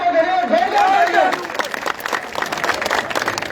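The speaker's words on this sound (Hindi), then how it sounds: "बहुत धन्यवाद, जोरदार तालियां।" Loud audience applause fills a crowded outdoor gathering in Parlika, dense clapping under a brief voice at the start and continuing steadily to the end.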